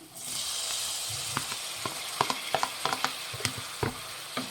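Chopped tomatoes fry with onions in a pan for egg kurma, a steady soft sizzle with a run of sharp spatula scrapes and taps against the pan, no talking.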